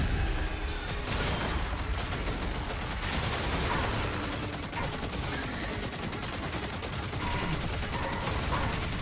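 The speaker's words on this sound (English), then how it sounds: "It's machine gun versus machine gun." Relentless automatic machine gun fire in DOOM, a dense continuous rattle of rapid shots with heavy low rumble, loud and unbroken throughout, with no pauses between bursts.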